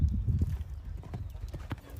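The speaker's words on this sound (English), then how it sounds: "we're going to ask our horse to collect the canter" Horse hooves beat in a collected canter during a pentathlon warm-up, a close, rhythmic series of soft thuds in quick three-beat groups, with some faint ambient noise behind.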